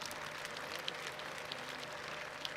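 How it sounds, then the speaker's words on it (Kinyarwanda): Steady applause fills a church congregation, a dense, continuous patter of many hands clapping at moderate distance with no pauses and no voices standing out. "Duhuze ibiganza twongere dukomera Imana amashyi."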